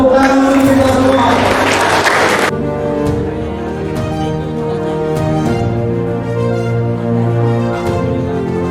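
Audience applause at a village gathering in Bandung, a dense burst of clapping for a couple of seconds that cuts off abruptly, followed by quieter background sound.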